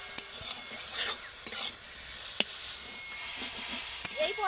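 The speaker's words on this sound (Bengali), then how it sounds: "একটু জাস্ট এইভাবে মেরে মেরে মশলার সাথে ভালো করে একটু কষিয়ে নিলেই হবে" Raw potatoes fry with spices in a pan, giving a soft continuous sizzle with sharp scraping and tapping strokes of a spatula at irregular intervals. Faint voices are heard in places.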